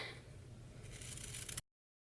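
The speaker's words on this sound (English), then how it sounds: "grab my regular scissors and sort of just cut" Regular scissors snipping through paper pockets for a craft folder, a steady close scraping cut lasting about a second and a half, then silence.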